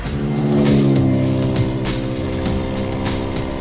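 A TVS Apache RTR 200 motorcycle engine revs up strongly, then holds at a fairly steady, loud drone; the fuel injection does not fully cut off, leaving slight revs overrun.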